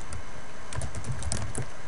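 Keys on a computer keyboard tapped in quick irregular bursts while someone writes code, the clicks light and close, set over a steady low background hum with no voices.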